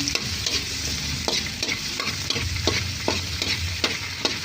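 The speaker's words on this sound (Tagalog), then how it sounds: "Pagkatapos natin maprito ang sibuyas, magigisa na po tayo ng bawang." Garlic sautés in a pan after onions have been fried, for a pork steak dish: a steady, close hiss of frying with repeated scraping stir strokes throughout, and no voices.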